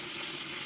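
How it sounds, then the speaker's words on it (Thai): Beef stir-frying in a pan with soy sauce and water, with a dense, steady hiss of frying that holds at an even loudness for under a second, no other sounds. "ซีอิ๊วขาวไว้หน่อยนึงนะใส่ไปเลยครับผัดเลยครับ เติมน้ำเปล่าลงไปนะ"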